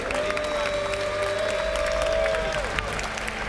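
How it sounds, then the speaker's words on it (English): Crowd applause and cheering at a motorsport esports manufacturer series award ceremony in a hangar venue, continuous clapping with whoops and a few voices mixed in, steady and fairly loud throughout. "Big round of applause, yes."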